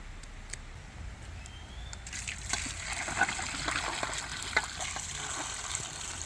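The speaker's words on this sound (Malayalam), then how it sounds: "തൊലിയൊക്കെ കളഞ്ഞ് ഞാനിതൊന്ന് കഴുകിയെടുക്കുന്നുണ്ട്" Peeled cassava washed in water, with running water gushing and splashing close by, growing louder after the first two seconds and continuing steadily with small sloshes and drips.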